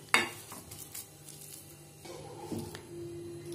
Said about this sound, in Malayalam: ഇനി ഇതിനെ സ്മാഷർ വെച്ചിട്ട് നന്നായിട്ടൊന്ന് പ്രസ് ചെയ്ത് കൊടുക്കുക